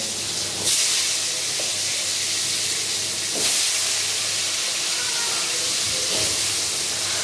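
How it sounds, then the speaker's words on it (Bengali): Potatoes drop into hot oil for a crab curry, giving a loud, steady sizzling hiss with a few sharper bursts as pieces hit the oil. "তেল আমার গরম হয়ে গিয়েছে, এবারে আমি আলুগুলোকে ভেজে নেব।"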